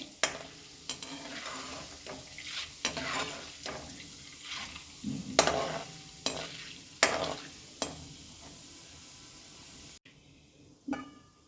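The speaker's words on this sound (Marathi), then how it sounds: "डाळ्या आपल्या छान तळून झालेल्या आहे" Roasted chana dal fries in oil over low heat for Diwali poha chivda, a steady soft sizzle broken by repeated clinks and scrapes of a stirring spoon, close up, ending in near quiet.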